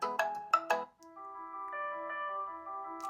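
A Xiaomi Poco X8 Pro smartphone speaker plays a ringtone: a few quick bright chimes, then a sustained, steady electronic melody, fairly loud and clear.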